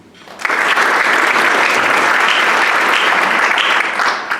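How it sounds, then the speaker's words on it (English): Loud, dense applause from the audience at a Rotary club meeting starts abruptly and holds steady for several seconds before easing off. "so you guys give her a huge round of applause"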